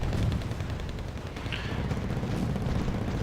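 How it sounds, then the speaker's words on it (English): Anti-aircraft guns firing in the PC strategy game Wargame: AirLand Battle, a dense, steady rumble of distant battlefield gunfire and explosions that runs throughout without pause. "We have AA firing as well."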